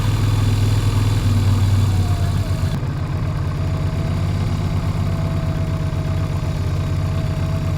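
A Yamaha Virago XV250 motorcycle with pod filters runs close by, its engine lifted just off idle into a loud, steady, throbbing low rumble that shifts slightly in pitch and then holds evenly.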